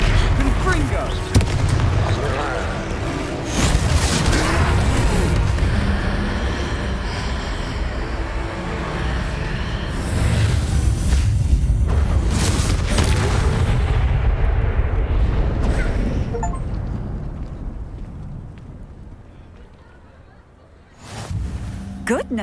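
Confringo fire spells explode during a troll fight in the game Hogwarts Legacy, a loud, dense stretch of booming blasts and rumbling impacts mixed with shouting voices and game sounds, fading near the end before a final burst.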